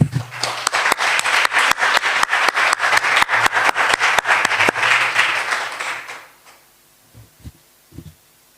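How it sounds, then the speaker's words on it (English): An audience at a canteen concessionaire recognition ceremony claps in a steady, even burst of applause for about six seconds, then it fades out, leaving a few faint scattered sounds. "I think they need an applause"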